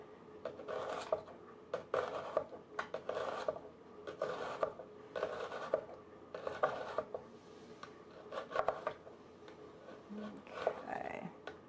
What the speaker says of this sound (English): I like to cut mine pretty thin.